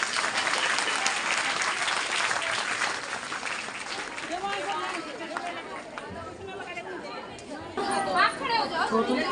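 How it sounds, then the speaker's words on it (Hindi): An audience at a school annual function and prize distribution claps loudly and continuously, with crowd chatter mixed in as the applause thins midway and then swells again. "जोरदार तालियां हो जाए इसके लिए।"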